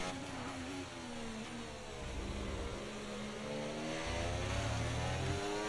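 F1 car engine in the F1 24 racing game, a loud, steady high-pitched whine that climbs and shifts through gears, with the tone sweeping up repeatedly under constant motor drone, close and continuous throughout.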